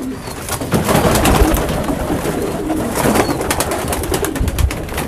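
Several pigeons cooing together in their loft, near and loud, with overlapping throaty coos and rustling over a steady background, and a voice speaking faintly underneath.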